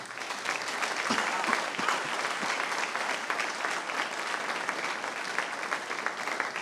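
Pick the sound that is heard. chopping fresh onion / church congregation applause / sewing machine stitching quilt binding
church congregation applause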